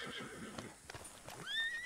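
A horse in a roleplay video game gives a rising, shrill whinny near the end, following softer snorts and shuffling sounds, with light background noise.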